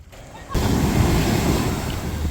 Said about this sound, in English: Waves are pretty big